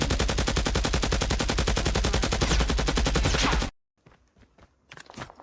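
Sustained rapid automatic gunfire in Call of Duty, a dense loud burst lasting several seconds that cuts off abruptly, followed by scattered faint clicks and thuds.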